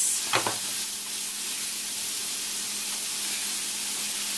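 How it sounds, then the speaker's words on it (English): Mushrooms sautéing in a little oil in a pan give a steady, soft broadband sizzle throughout, with a brief stir or scrape near the start and no talking. "It'll take like 2 to 3 minutes to saute the mushrooms."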